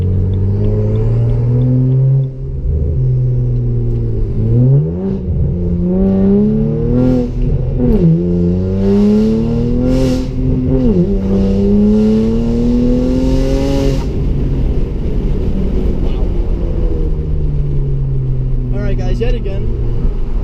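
BMW with an N54 engine accelerating hard in a full-throttle pull, the engine note climbing repeatedly through the gears, loud and continuous, with a voice talking over it near the end.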